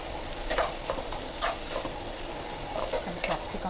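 Chopped onions fry in a pan for a Sunday lunch curry, a steady low sizzle with occasional light stirring clicks and taps, close and fairly quiet, with no voices.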